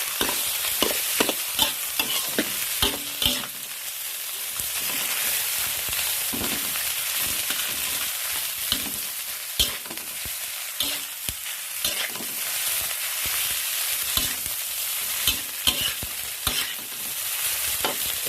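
Egg fried rice with plenty of fried garlic is stir-fried in a hot pan, a steady loud sizzle running throughout under rapid clattering strokes of a spatula against the pan, close up and continuous, with no voices.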